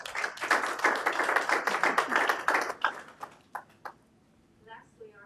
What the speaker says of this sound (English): So one more round of applause, please.